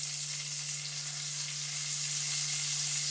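Sliced onions fry steadily in a pan for chicken biryani, a continuous close sizzle with no pauses, accompanied by a constant low electrical hum.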